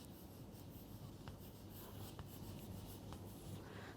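Chalk or marker writing numbers on a classroom board during a math lesson on units of measure, faint scratchy strokes under a steady hiss with a few small taps.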